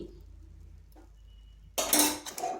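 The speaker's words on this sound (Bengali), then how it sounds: "ঘিটা ভালোভাবে এর সাথে মিশিয়ে নিচ্ছি" A spoon stirs a sweet semolina mixture with ghee in a pan, with soft scraping at first and then a loud burst of clinking and scraping of metal against the pan near the end.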